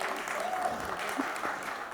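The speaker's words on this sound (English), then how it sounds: "let's give him a good applause" A small audience at an expo panel applauds the moderator, a soft, even patter of clapping heard from a distance, with a faint voice briefly showing through.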